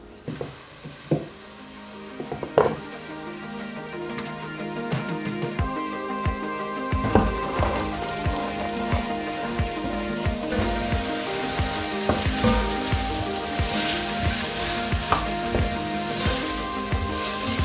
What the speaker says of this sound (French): On va les laisser revenir délicatement et tranquillement pendant que je coupe les carottes